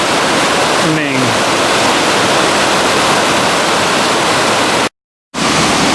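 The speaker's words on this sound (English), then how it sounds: "This has got to be the best little river I've seen" A small river flows through the Maine wilderness, giving a loud, steady rushing close by that fills the whole stretch, with a brief bird chirp early on and a short dropout near the end.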